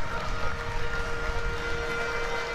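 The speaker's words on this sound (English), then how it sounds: "East Kent bring the vuvuzelas" Vuvuzelas blown by East Kent Mavericks fans in a stadium crowd at an American football championship game, a loud, steady droning blare held throughout over dense crowd noise.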